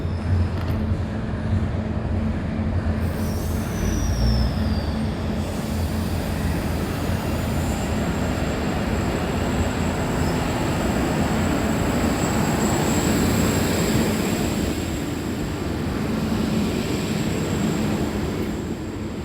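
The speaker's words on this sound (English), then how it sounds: "Devaset N14 now departing for a Telara service." A train pulls out of Maitland station in the Hunter Valley on a service to Telara, its steady low rumble and wheel noise loud and continuous, with a faint whine rising briefly early on.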